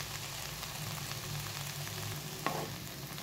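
Aval upma (poha) with salt sizzles softly in a pan under a steady frying hiss, with one brief scrape of stirring near the end.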